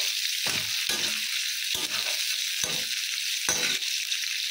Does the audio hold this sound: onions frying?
yes